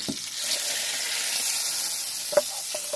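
Food frying in hot oil with sugar in a pot, a steady soft sizzle running throughout, close and moderately quiet, with a few light clinks of utensils toward the end.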